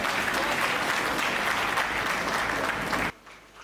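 Steady audience applause at a Hindi poetry recital, dense and sustained clapping from a full crowd that cuts off abruptly near the end.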